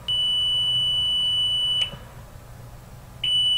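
A radiation area monitor's steady high-pitched electronic alarm tone sounds for nearly two seconds, stops, then resumes after a short pause; loud and close, with no talking.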